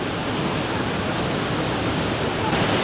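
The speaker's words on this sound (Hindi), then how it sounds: "तो ये था वाटरफॉल जिसकी तलाश में हम यहाँ तक पहुँचे थे" A waterfall near Leukerbad, Switzerland roars as a constant, dense rush of water, steady and even from start to finish.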